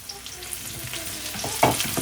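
Chopped onion and capsicum sauté in a pan, giving a close, steady sizzle broken by scraping stir strokes. The stirring grows busier toward the end.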